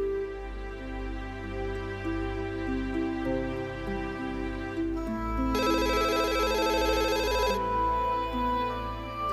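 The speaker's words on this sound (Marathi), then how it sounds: "आई, राजकुमारचा फोन आला होता" A telephone rings in a home, its electronic ringtone sounding mid-clip over steady background music, with no speech.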